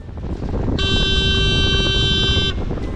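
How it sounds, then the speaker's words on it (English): One sustained ship foghorn blast at sea, a steady tonal drone lasting nearly two seconds, over constant wind and engine rumble. "had to use the foghorn to warn any nearby ships of our presence"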